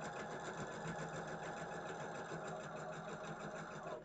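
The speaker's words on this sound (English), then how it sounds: "I'm sewing these together" A sewing machine runs steadily, stitching quilt blocks together for a Moda Blockheads block, its fast even needle rhythm filling the whole stretch at close range with no break.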